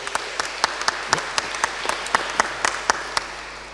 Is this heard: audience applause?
yes